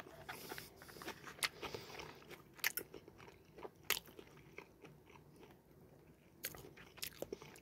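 Crunchy bites and chewing of a kimchi-topped pork cutlet with cheese from an Emart meal, recorded close in a quiet mukbang setting, with sharp crackling crunches at irregular intervals and soft mouth sounds between.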